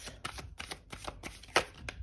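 Tarot cards are shuffled close by, a rapid run of soft riffling and flicking bursts in an uneven rhythm.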